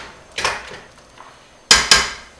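A metal lid set back onto a cooking pot of simmering meatballs in broth for chili, two sharp clanks close together, preceded by softer handling clatter, with no talking.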